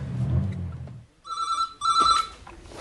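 A telephone rings out in two loud, close bursts of bright electronic trilling, separated by a brief gap, following a low rumbling noise at the start.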